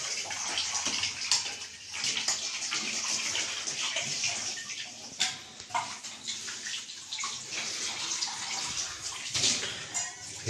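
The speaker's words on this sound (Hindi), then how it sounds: "और मैडम करिए बर्तन साफ।" Dishes are washed under steadily running tap water in a home in a settlement in Pilani, Rajasthan, a continuous close splashing stream with occasional clinks and knocks throughout.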